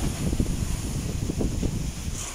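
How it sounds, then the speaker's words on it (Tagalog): Strong wind roars continuously against the microphone, with rough low rumbling gusts and a faint rustle underneath. "Ay, sobrang lakas po ng hangin."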